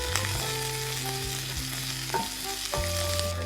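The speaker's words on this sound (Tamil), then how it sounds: "அதை ஒரு வதக்க வதக்கிறோம் நல்லா வதக்கி விடணும்" A large onion sautés in a pan as the base for a crab curry, giving a steady close sizzle with occasional louder stirring scrapes and clanks throughout.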